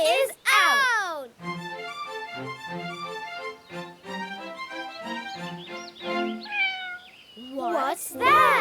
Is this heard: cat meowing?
yes